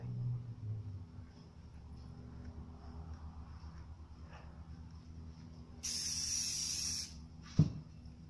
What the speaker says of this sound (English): Now we're going to spray a little white overspray on here